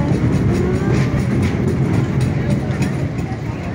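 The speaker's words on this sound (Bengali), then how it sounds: "এটা ট্রেনটা।" A children's fair ride train runs nearby at a crowded festival ground, a steady loud rumble with faint rhythmic clicks blending into busy crowd noise and voices.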